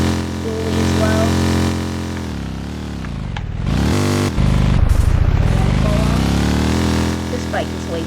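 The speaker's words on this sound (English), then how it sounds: "This bike is way too loud." A motorcycle engine running loud and close, its buzzing harmonic drone swooping down and back up in pitch through several rev changes and dropping briefly before a harsher roar returns.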